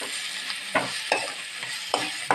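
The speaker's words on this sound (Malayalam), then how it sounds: "കരിയാപ്പിള രണ്ട് മൂന്ന് തണ്ട് കരിയാപ്പിള ചേർക്കുകയാണ്" Curry leaves and onions frying in a pan, a close crackling sizzle broken by four sharp scrapes of a spoon stirring against the pan, no talking.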